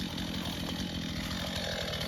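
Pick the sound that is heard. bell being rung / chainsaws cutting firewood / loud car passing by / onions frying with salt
chainsaws cutting firewood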